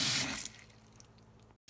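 Jute mallow (mloukhiyeh) leaves are swished and rinsed in very hot water, a close, loud watery splash at the start fading into softer sloshing and drips before cutting off.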